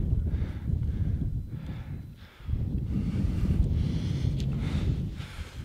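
Strong wind on the Meluzína mountain summit in the Czech Republic buffets the microphone in heavy, uneven gusts, roaring low and steady with a brief lull midway.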